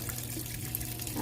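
Water flowing through an inlet hose into a fully automatic washing machine, a steady low rushing fill that stays faint and even for a moment.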